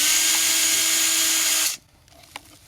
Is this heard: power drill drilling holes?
yes